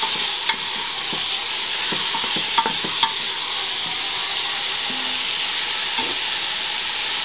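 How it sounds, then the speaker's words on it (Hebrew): Chicken and vegetable fried rice is stirred in a hot pan, a steady loud sizzle running throughout with occasional soft scrapes and clicks of the stirring utensil, no talking. "אני מערבבת."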